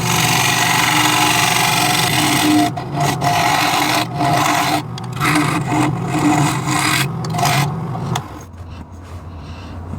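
A WEN 3424T mini wood lathe cuts a dovetail inside a mortise, a loud scraping, rasping tool-on-wood noise with repeated brief breaks before it quiets down near the end.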